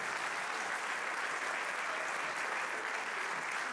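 A theatre audience at a live comedy show breaks into sustained applause. The clapping is dense and even, holding at a steady level throughout without a break.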